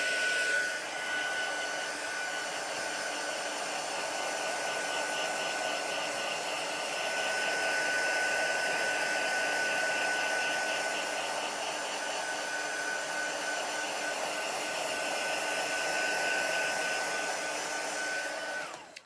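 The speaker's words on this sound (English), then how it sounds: "So just using the heat tool just to dry that off a little bit." Heat tool drying a watercolour card, a steady loud whirring blow with a faint high whine, running unbroken for the whole stretch and cutting off at the end.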